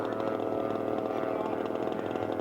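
A scale model PF-109 aircraft engine with engine problems runs at a steady high-pitched buzz, continuous and moderately loud, with no voices.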